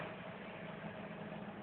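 A motorcycle engine runs steadily during a caravan trip, a faint, even, low mechanical hum that continues without a break.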